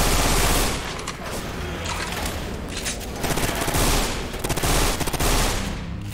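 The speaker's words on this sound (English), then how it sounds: "This gun's so satisfying. Thing sounds like it just rips through people." Loud automatic gunfire in the Left 4 Dead 2 video game, dense rattling bursts that rise and fall in rapid clusters across the whole stretch.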